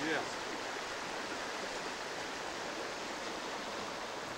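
A river stream near Sitka, Alaska, rushes in a dense, steady wash of flowing water heard close and continuous, with a brief voice at the very start.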